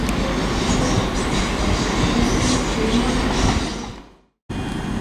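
A ScotRail class 380 unit, 380-103, passes through Haymarket with a loud steady rumble and faint wheel whine, which fades out abruptly near the end before the background noise returns.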